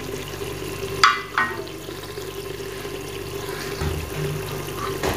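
Garlic paste roasting with spices such as turmeric and red chili powder in a pan for kadhi pakora makes a low, watery sizzle, with a couple of brief scraping stirs near the start and no talking.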